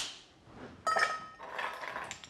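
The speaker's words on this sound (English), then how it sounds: "Crack our ice cube." An ice cube is cracked for an Irish whiskey cocktail of Bushmills and sweet vermouth, giving two sharp, bright clinks, the second followed by a short rattle of ice against glass.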